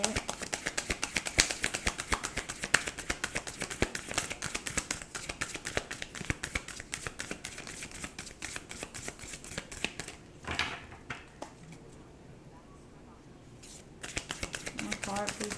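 A tarot deck shuffled by hand, rapid crisp riffling and card flicks repeating close up, with a voice speaking over it and a brief pause in the shuffling near the end.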